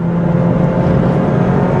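Naturally aspirated engine of a Renault Clio 182 hot hatch holds a steady, loud drone throughout with no talk, a continuous engine note that does not clearly rise or fall.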